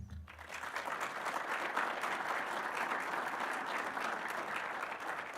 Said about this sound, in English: Applause at the start's always safer than applause at the end.